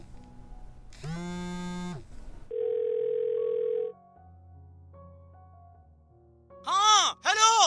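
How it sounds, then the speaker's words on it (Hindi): A telephone dial tone sounds during a call being placed in a Haryanvi film scene: a steady, clear tone holds for over a second, preceded by a brief vocal sound and followed by a low hum and a few sharp electronic chirps. "मैं इंदर को फोन मिला रहा हूँ अभी"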